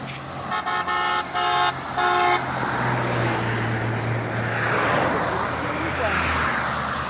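Busy highway traffic in the Philippines roars steadily close by, with a vehicle horn tooting in short repeated blasts early on and engines droning throughout.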